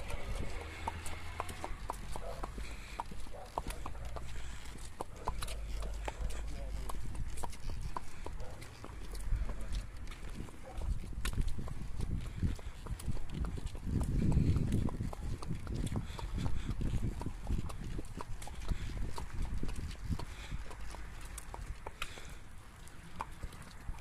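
A ridden horse clip-clops steadily for the whole stretch, its hoofbeats mixed with outdoor noise and some faint voices in the background.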